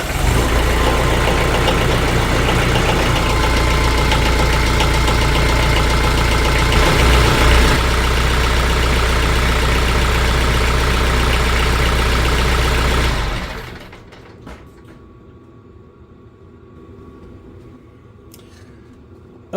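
A TYM T474 tractor engine idles right after an oil change with Shell Rotella T4 15W-40, a loud steady running drone for about thirteen seconds before it cuts out abruptly, leaving only faint background noise.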